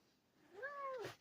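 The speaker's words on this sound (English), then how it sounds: "what a good cat" A cat gives a single short, rising-then-falling meow, soft and fairly close in a quiet room.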